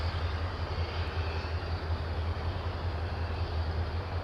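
A train rolls steadily past near Miami, a continuous deep low rumble with a broad, even wash of rolling noise, heard fairly close for the whole stretch, with no voices.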